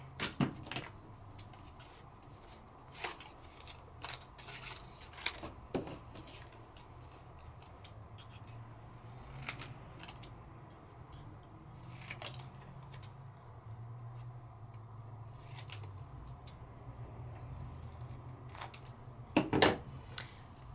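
Scissors cut through paper card stock for a 3D interactive card, giving faint, scattered snips and clicks spread unevenly across a quiet stretch with no talking.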